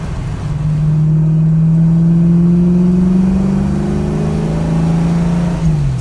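A 1967 Ford Mustang engine pulls through corners with a steady, loud, rising drone that holds for several seconds before easing off.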